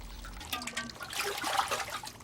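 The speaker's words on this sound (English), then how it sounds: "People rinse out pots in the tanks and clean their freshly picked vegetables." Water trickling and splashing as villagers in a satoyama village rinse pots and vegetables in a carp tank, close and irregular, with brief pours and dribbles rising and falling over a couple of seconds.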